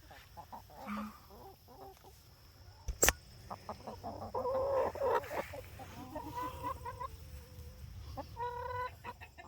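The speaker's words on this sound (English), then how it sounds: "the rooster's calling them all in" A backyard rooster calling its hens in makes repeated calls and clucks at moderate distance, with a sharp knock partway through and scattered outdoor ambience.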